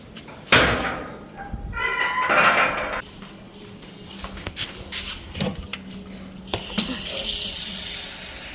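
Water running from a tap, splashing into a container to give dogs a drink, in bursts with clattering and a door-like knock between them, close by, with brief voice sounds.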